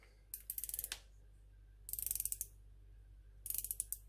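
Three short bursts of crisp, rapid clicking come from a 1970s bronze dive watch as its unidirectional 120-click bezel is turned, each run about half a second long and close up, with quiet pauses between.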